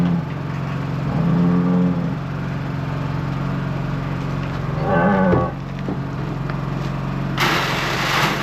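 Hungry steers on a farm moo loudly several times, long low bellows over a steady engine drone, with a brighter burst of noise near the end.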